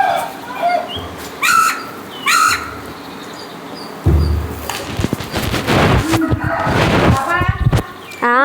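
A crow near a neem tree gives repeated loud caws in short bursts, first spaced apart and then in a busier, overlapping run, with other bird calls and background noise mixed in.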